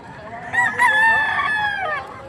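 A rooster crows close by at a poultry sale in Padre Garcia, Batangas, one long drawn-out call rising and holding before fading, over faint background noise.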